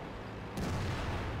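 A single heavy tank cannon shot from an AMX M4 Mle.45 in a tank battle video game, a sudden loud boom that swells into a sustained rumble against steady background noise, with no talking.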